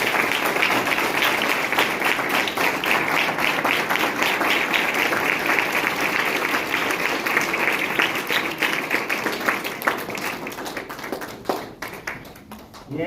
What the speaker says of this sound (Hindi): जोरदार तालियां दोनों बच्चों के लिए